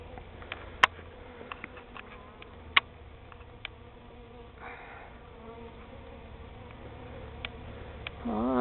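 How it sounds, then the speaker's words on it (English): A swarm of scout bees flies around a new hive site outdoors, a steady faint insect buzz with a few brief clicks and taps, and a louder rise right at the end. "Scout bees coming back, telling the ladies what they found."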